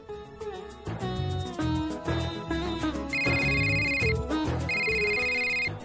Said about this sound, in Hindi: ओ मेरा फोन आया है, एक सेकेंड।